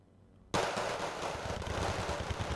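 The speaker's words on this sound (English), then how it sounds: "looks like this is getting lit up by machine gun and cannon fire" Sudden onset of dense machine gun and cannon fire in Wargame Red Dragon, a sustained rattling barrage of rapid shots that stays loud and continuous after a quiet start.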